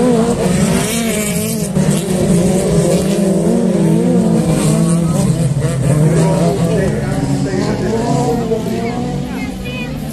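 Autocross race cars racing, engines revving and rising in pitch as they accelerate past, with a crowd murmuring and someone commentating excitedly in French throughout.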